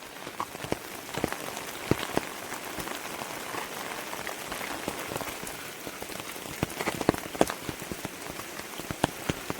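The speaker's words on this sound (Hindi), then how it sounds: "अब ये बारिश रुकनी चाहिए" Heavy rain falling in the Jim Corbett forest, a steady hiss of downpour with sharp, irregular drops striking nearby surfaces, loud and continuous with no voices.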